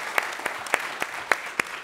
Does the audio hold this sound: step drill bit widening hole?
no